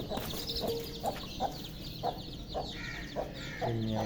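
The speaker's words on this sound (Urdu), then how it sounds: "یہ میاں والی مرغا ہے" A Mianwali rooster kept with hens, chicks and rabbits clucks in a series of short, regular calls, about one every half second, over steady outdoor background noise, with a louder call at the end.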